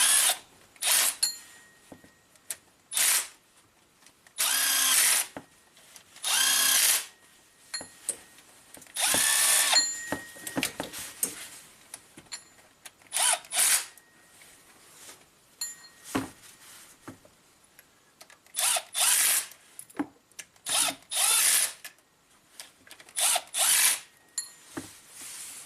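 Power tool driving and tightening bolts on a Maserati engine during reassembly, in repeated short bursts of whirring separated by pauses, with occasional ratchet clicks and metallic clinks, close and fairly loud.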